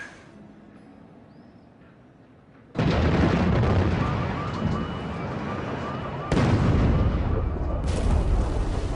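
Bombs exploding during an air raid over Baghdad: after a quiet stretch, a sudden loud, sustained roar of blasts and rumbling hits at once, then swells even louder partway through, filling the whole scene with no voices.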